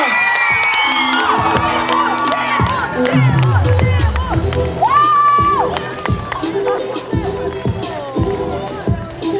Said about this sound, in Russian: Громкие аплодисменты нашему победителю